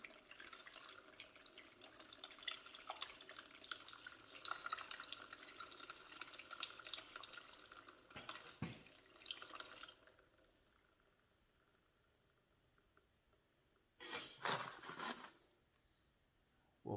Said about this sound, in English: We'll dump the excess water out with your hand over the barrel and just let it go until the water quits flowing